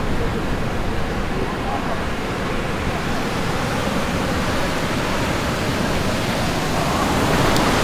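Ocean surf rolling onto San Clemente beach, California, a steady broad roar of breaking waves close by, continuous and loud throughout with no distinct individual crashes.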